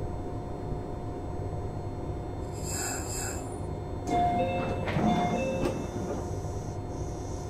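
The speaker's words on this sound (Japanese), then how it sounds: "ドアを閉めます。 ご注意ください。" Meitetsu 1200 series train doors sliding shut in the BVE5 train simulator, with electronic chimes and a mechanical closing thump amid steady cabin rumble, no talk.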